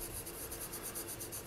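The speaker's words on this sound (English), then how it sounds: "We're just shading with the charcoal pencil, moving outside of the lines that we've drawn here." Steady, soft scratching of a charcoal pencil shading a tree drawing on paper, a continuous close rasp with a faint periodic rhythm from the back-and-forth strokes, no talking.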